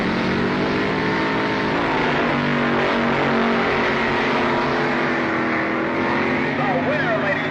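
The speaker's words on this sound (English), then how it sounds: "A pair of gas dragsters driven by Dominic Santucci and Phil Hobbs stage for the Top Gas Eliminator Championship." Gas dragsters line up to stage for the Top Gas Eliminator final at the 1969 US Nationals drag race, their engines roaring loud and continuous with rising and falling revs, under steady commentary.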